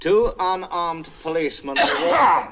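Someone speaks a few words, then a loud, close sneeze bursts out at the end.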